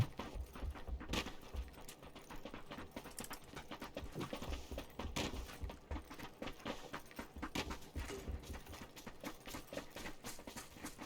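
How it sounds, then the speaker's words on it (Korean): Footsteps in PUBG: Battlegrounds, with an irregular run of thudding and crunching steps that continue for the whole stretch, fairly close and moderately loud, with no talk over them. "밖에 발소리났어"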